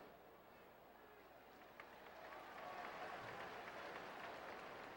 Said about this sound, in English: smattering of applause